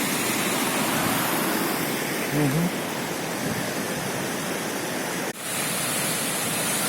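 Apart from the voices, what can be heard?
fast-flowing stream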